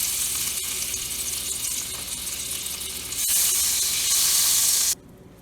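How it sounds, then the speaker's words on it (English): Butter, about two tablespoons, sizzles loudly in hot olive oil in a pan while salmon is being cooked, a steady bright hiss that swells louder near the end before cutting off abruptly. "All we have to do is add some butter in it, like close to 2 tablespoons should be fine."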